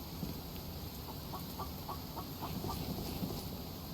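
A chicken in the survival game The Infected clucks in a quick series of short, soft calls over a steady hiss of ambient noise, sounding a little distant.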